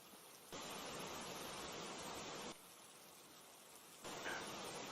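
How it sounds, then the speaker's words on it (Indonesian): Rain falling outside, a soft, even hiss that holds steady throughout and swells slightly louder in two stretches, with no voices over it. "Suara hujan di luar itu kayak nyanyi buat kamu."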